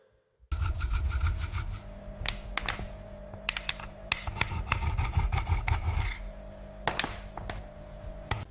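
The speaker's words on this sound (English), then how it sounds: "each horn surface is cleaned to remove dirt, dust, and unwanted organic residue." Bull horn being scrubbed clean of dirt and dust in a factory, with brisk, uneven rasping strokes and sharp scraping clicks, close and continuous with no talking.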